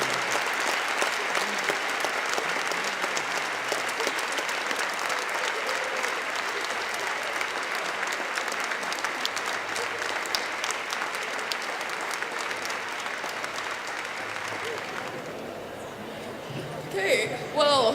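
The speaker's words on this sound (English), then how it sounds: "if you could join me in another round of applause for our guest" A school assembly audience applauds steadily at a Veterans Day event, with dense, sustained clapping that fades near the end as a voice begins to speak.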